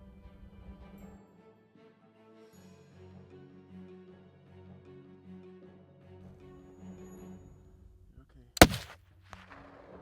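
A single loud, sharp gunshot fired at a mule deer during a hunt in Montana, cracking out near the end after a quiet stretch, followed by a short fading echo.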